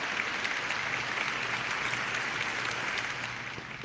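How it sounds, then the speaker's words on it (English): A live show audience gives sustained applause, a dense, even clapping that stays loud and then eases slightly toward the end, with no voices on top. "Give you your applause."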